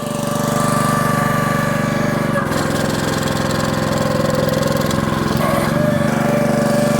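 Small gas engine on a log splitter running loud and close, a steady mid-pitched drone with a brief dip and change in load partway through as the throttle is raised, then settling back into a firm hum.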